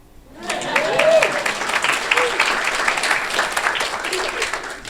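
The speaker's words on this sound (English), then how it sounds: "This is where you clap." Audience clapping breaks out at a real estate talk, rising quickly after a brief quiet start and holding as a steady, fairly loud patter for several seconds, with some murmuring mixed in.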